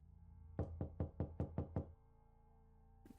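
Seven firm knocks on a veterinarian's door, evenly spaced and close, rap out in a steady rhythm and then stop, leaving a quiet room.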